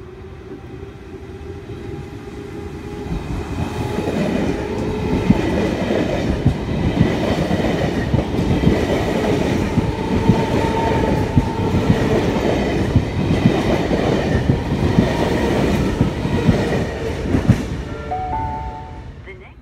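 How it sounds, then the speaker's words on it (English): A Sydney train pulls into the platform at Redfern station, a steady loud rumble of rolling wagons with faint clickety-clack and brief wheel squeal near the end, station hum and tones underneath. "Central service arriving into platform 1 from Olympic Park"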